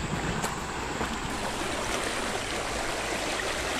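A dog wades through a shallow creek on a dove field at a wildlife management area, steady close splashing and trickling water running throughout with a few sharper sloshes.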